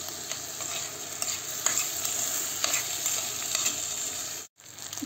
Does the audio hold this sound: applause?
no